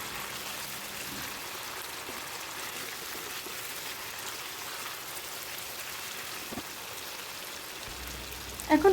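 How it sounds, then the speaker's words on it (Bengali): Chicken stir-fries with spices in a pan for a coconut-milk chicken korma, giving an even, rain-like sizzling hiss throughout with a small clink right at the end. "চিকেনটা দেওয়ার পরেও মশলার সাথে ভালো করে মিক্স করে এভাবে নেড়ে ছেড়ে কষিয়ে নিলাম।"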